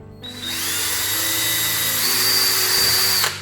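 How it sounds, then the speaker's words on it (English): A power drill whines steadily as it drives screws into a wooden candy slide, a loud, sustained motor drone with a brief dip in pitch near the end before stopping. "I'm putting 8 screws in it, just so it's supported on all sides."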